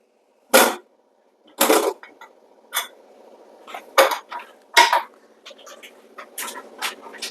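Metal lid lifted off a pot of chicken biryani, sharp clanks and scrapes in separate bursts with quiet gaps, close and alone.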